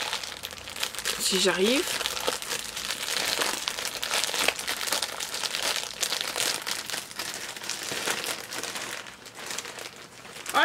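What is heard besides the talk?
t-shirt package being opened, plastic crinkling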